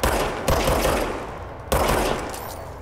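Two loud, sharp shots from the game Control ring out with long, decaying reverberant tails, the second arriving a little over a second after the first, with no talk in between.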